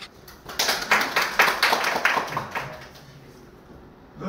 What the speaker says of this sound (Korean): 그럼 이희대 교수님 큰 박수 부탁드립니다.